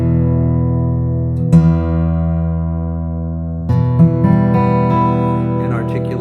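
Boucher SG 52 MV acoustic guitar flat-picked with a pick: two loud strummed chords about two seconds apart, each ringing out with long, even piano-like sustain, the second followed by a few plucked notes, no talking.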